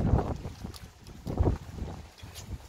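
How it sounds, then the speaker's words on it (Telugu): Strong gusty wind in Oia, Santorini during stormy, rainy weather buffets the microphone in heavy, rumbling surges that swell and fade in waves. "ఫుల్ విండిగా ఉంది."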